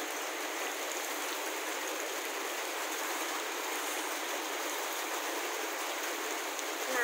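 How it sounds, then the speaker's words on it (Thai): Heavy rain pours down steadily over flooded ground, a dense, even hiss of water that holds constant throughout with no pauses and no voices. "ฝนตกหนักมากเลยท่วมหมดเลยนะคะ"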